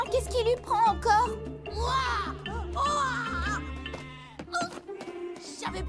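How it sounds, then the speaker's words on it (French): Sheep bleat in wavering, overlapping cries, several of them in a row at close range, mixed with the voices of people talking over them in a French-dubbed Beyblade Burst Turbo cartoon. "Je savais pas qu'on élevait aussi des moutons ici."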